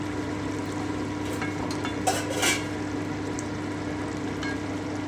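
Chicken for Hariyali chicken with chopped green chillies frying in a pan, a low steady sizzle with occasional scraping stirs and a brief metallic clink of the spoon against the pan.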